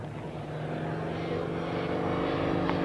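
A vintage propeller aircraft makes a slow, low flypast with flaps down at a 1986 airshow, its steady droning engine note holding loud and close throughout with no voices.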